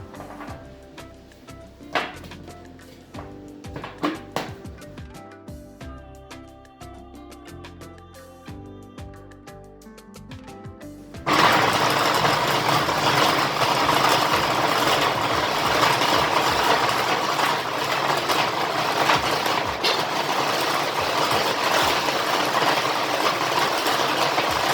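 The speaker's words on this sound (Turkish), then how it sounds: "Açıkçası hurmayı püre haline getirirken ronda biraz zorlandı." A food processor purees dates with almond milk, starting halfway through as a loud, dense, continuous whir that stays steady to the end. Clinks and kitchen handling sounds come before it.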